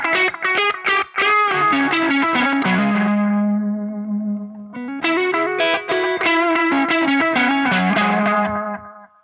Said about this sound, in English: this is just a regular old analog echo